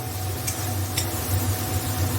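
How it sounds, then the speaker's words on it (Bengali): Tomatoes fry in a pan over a raised flame, giving a continuous close sizzle with a couple of light utensil clicks and no voices. "এইবার একটু ভাজা ভাজা করে নেব একটু ভাজা হয়ে গেলেই ইয়ে টমাটার"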